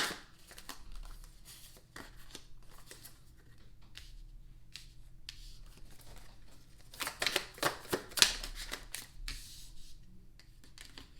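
Tarot cards are shuffled and drawn by hand in a quiet room: soft riffling, flicking and sliding of cards, faint at first, then louder snapping bursts near the end, with no speech.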